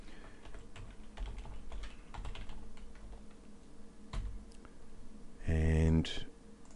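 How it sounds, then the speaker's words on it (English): Keys tapped on a computer keyboard while entering text in After Effects, a steady run of soft close clicks under a low room hum, ending in a brief louder burst. "the next thing we need to do is type in some text"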